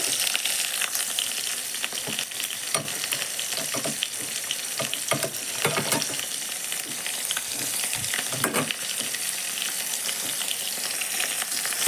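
Onions and tomatoes fry in hot oil with a steady, dense sizzle, broken by occasional scraping stirs, close and continuous throughout.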